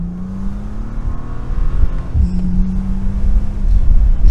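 A Bentley Continental GTC Speed with its 659-horsepower W12 pulls hard in sport mode, the engine note rising steadily, dropping on a paddle upshift and then climbing again, loud and close from inside the cabin.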